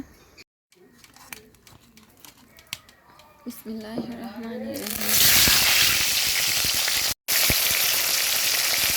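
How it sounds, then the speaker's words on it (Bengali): Fish drops into hot oil in a kadai and bursts into a loud, dense sizzle about halfway through, following a stretch of someone talking over quieter kitchen clatter; the frying then continues steadily and close. "এখন আমি মাছগুলো ভেজে নেব সুন্দর করে"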